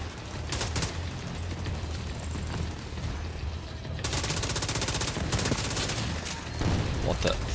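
Gunfire in the online shooter Tom Clancy's The Division 2 crackles in dense, rapid bursts over a steady game backdrop, growing heavier and more sustained toward the end.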